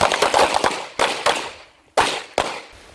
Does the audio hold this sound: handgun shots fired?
yes